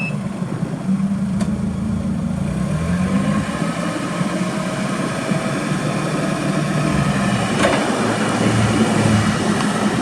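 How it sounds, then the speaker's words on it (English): A 2009 Mitsubishi FG25N forklift's LP gas engine runs at a steady idle nearby, a constant low rumble and hum with no talking. "Good running LP gas engine."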